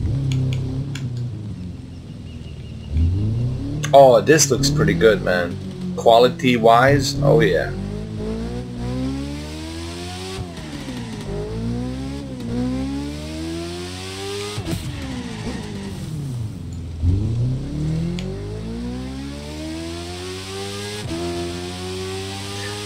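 A Suzuki car engine in a video game revs and accelerates during free driving, rising and falling through several gear sweeps, loud and continuous, while someone talks over the first part.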